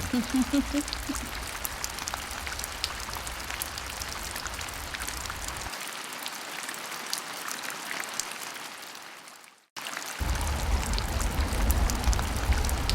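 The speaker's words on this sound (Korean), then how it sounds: "비가 오기 시작해요." Steady rain patters down near a valley stream at the Naewonsa gorge in Yangsan, a dense, even hiss of drops with a low rumble of flowing water beneath that briefly drops out before returning.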